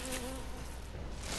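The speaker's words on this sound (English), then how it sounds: "What the, oh, the bees? Bees!" Bees buzz in Resident Evil 6: a steady, loud insect drone fills the whole moment, with a brief tonal hum near the start.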